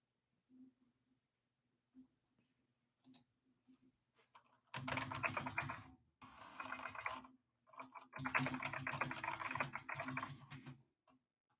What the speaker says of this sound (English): I'm typing something. Ignore the keyboard noise.